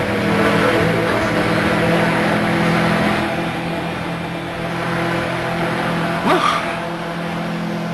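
Russian wingship ground-effect vehicle running over water, a steady droning engine hum with tonal whine, holding level throughout, with a brief swelling surge near the end.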